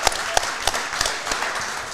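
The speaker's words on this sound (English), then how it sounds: "everybody give a round of applause" Audience applause at an NFL Draft Day 2 event for the Chicago Bears: steady clapping from a crowd, with a few sharper claps standing out.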